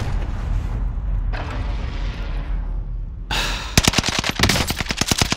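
A burst of EM2 rifle fire in Call of Duty: Warzone cracks out as a rapid string of sharp, loud shots, following a few seconds of quieter ambient game noise.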